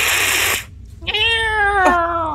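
A human voice imitates a cat's meow: one long, wavering meow rising and then falling, heard alone after a brief burst of noise.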